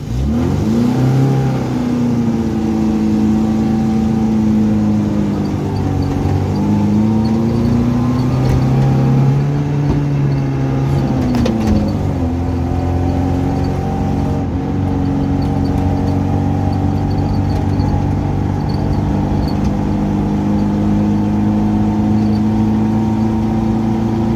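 A car that sat idle for eight years drives off. Its engine runs loud and steady throughout, the pitch rising and falling through several gear changes as it gathers speed, with no talking.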